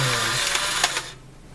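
An instant camera whirs as it ejects the paper cover sheet over the film, a short mechanical motor buzz that runs about a second, then stops abruptly.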